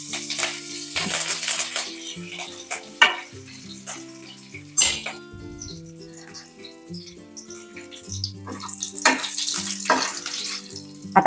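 Mustard seeds, asafoetida and curry leaves crackling in hot tadka oil, sharp popping bursts over a steady sizzle, with clinks of a spoon against the pan.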